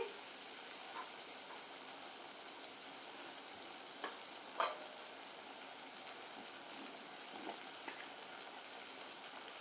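Mustard seeds frying in a pan give a steady, soft hiss of sizzling, with a few faint taps and scrapes of stirring and no voices.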